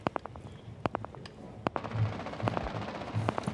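Bursts of rapid gunfire in a Rainbow Six match hit a player through a wall, firing as clusters of sharp, snappy shots, some isolated and some tight volleys, over low rumbling game ambience.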